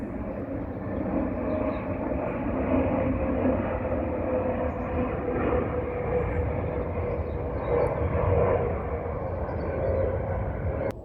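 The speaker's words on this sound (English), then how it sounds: "There's another plane coming" An airplane passes over a former gravel-pit nature reserve near Colnbrook, a steady broad roar of moderate loudness that holds for the full stretch with no talking.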